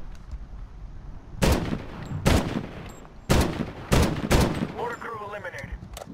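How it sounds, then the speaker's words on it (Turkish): Heavy machine gun fire from the video game Medal of Honor (2010) comes in several loud, sharp bursts of about half a second each, spaced irregularly over a low game background, with a brief voice near the end. "Allah'tan ağır makineli var bizde."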